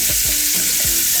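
Vegetables sauté in olive oil for a cream of potato soup, giving a loud, dense sizzle with a few quick stirring scrapes over one brief stretch.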